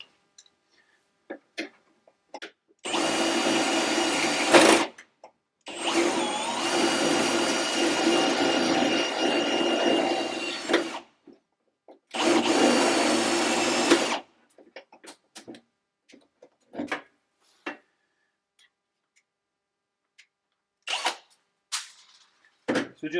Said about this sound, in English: So just like that, you're drilling out these rivets.